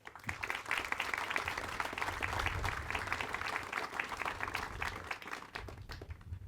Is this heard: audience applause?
yes